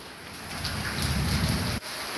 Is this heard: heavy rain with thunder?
yes